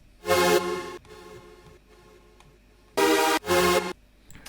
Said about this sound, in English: You can hear the LFO tool trigger.